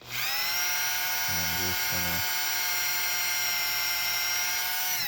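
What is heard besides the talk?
drilling with a very small drill bit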